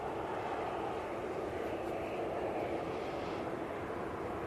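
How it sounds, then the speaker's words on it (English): Turkish Airlines Airbus A330-300 landing at Manchester Airport, heard as a continuous jet engine roar, steady and moderately distant, without talk. "Got a Turkish that just did a go around before. That is moments away from landing."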